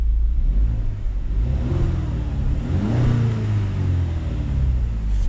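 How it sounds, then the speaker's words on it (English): A 2-litre turbocharged Jaguar F-Type engine revs hard with exhaust valves open, a deep, throaty exhaust rising and falling in a loud, close rumble that holds steady throughout. "here's the exhaust button, which opens the valves up, and let's rev it"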